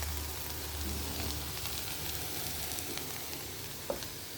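Vegetable pieces coated with salt, gram flour and chili powder frying in a pan, a soft, steady sizzle with faint crackles and a low hum underneath, fairly quiet and without talk.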